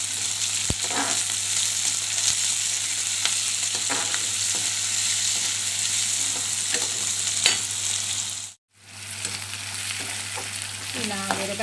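Onions sizzle steadily in hot oil in a pan for mango pulihora, with occasional scraping stirs and a brief gap before the frying resumes.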